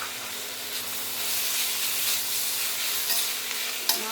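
Grated raw mango frying in a pan for South Indian mango rice: a steady loud sizzle and hiss with soft stirring scrapes throughout, no talk.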